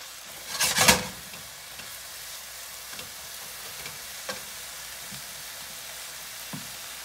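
Wilted spinach cooks in a pan for spinach artichoke dip, a steady soft sizzle with a brief louder stir or clatter near the start and scattered light clicks afterward, close and without talking.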